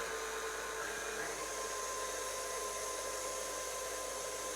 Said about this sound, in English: We're going to turn on the mixing machine.